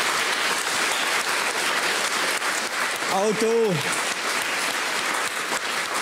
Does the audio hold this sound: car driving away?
no